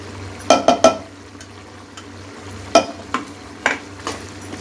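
Ground masala being stirred into a simmering curry in a pan, several distinct scraping and clinking strokes over a low steady hiss, close and fairly quiet.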